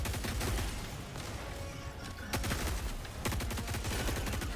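Rapid bursts of assault rifle fire from the Helldivers 2 video game, mixed with further shots and impacts, repeating in dense clusters at moderate level across the whole stretch.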